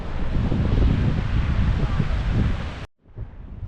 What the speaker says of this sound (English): it really is quite windy and quite busy here at Camps Bay Beach